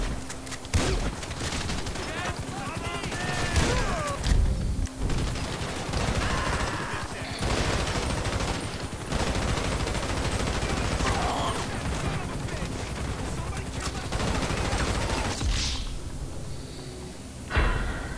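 Sustained gunfire in GTA V, rapid bursts and fusillades of shots crackling close and loud almost without pause, with occasional thuds and a voice talking over parts of it.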